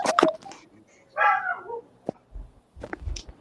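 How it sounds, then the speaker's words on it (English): A dog barks inside a house, a few sharp barks and yips spaced out between moments of quiet, fairly close, with some talk. "go chase a dog out the house"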